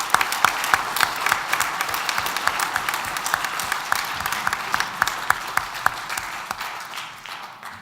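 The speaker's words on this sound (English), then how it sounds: "can I also thank you for the warm applause before I started speaking" Audience applause welcoming a speaker at the Ulster Unionist Party conference in Belfast: a hall of steady clapping, moderately loud with a few sharper close claps standing out, slowly fading toward the end.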